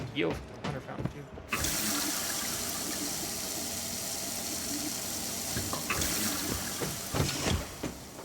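A water fountain in a video game runs with a continuous rushing splash that starts abruptly and holds steady at close range, while a voice talks over it.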